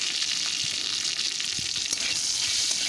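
Ginger paste and turmeric powder sauté in hot oil in a pan, giving a loud, dense, continuous sizzle with faint stirring scrapes close up and no talk.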